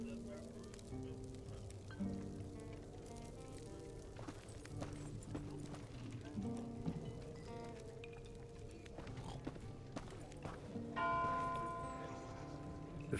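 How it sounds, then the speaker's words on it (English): Church bells toll in The Inquisitor video game, ringing tones layered over steady game music and ambience, growing clearer and brighter near the end. "first tolling of the bells"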